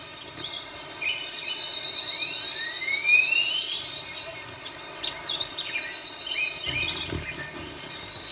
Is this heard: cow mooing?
no